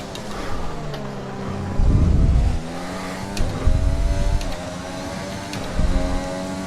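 A Formula 1 car engine in the F1 2020 racing game runs hot on soft tyres, droning steadily with rising and falling revs and several louder surges, fairly loud and close, with no talking over it.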